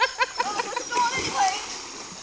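A person swinging on a rope splashes into water, giving a short close splash and churning slosh as voices talk and shout over it.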